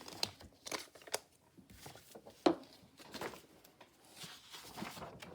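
Scissors snip through thin one-sided junk journal papers in quiet, irregular cuts, with light paper rustling and handling between them, close-up and soft.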